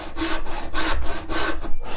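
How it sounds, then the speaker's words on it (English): A hand saw cutting through pallet wood on a workbench, with about five or six rhythmic rasping strokes back and forth, close and fairly loud, alone without talk. "If you listen to the sound, you know if you're sawing properly"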